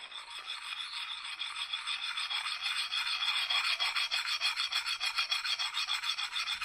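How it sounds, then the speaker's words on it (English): Steady rhythmic rasping of a Hultafors mini hatchet's axe head being stroked across the coarse side of a whetstone, repeated close strokes with no talking. "Grinding away."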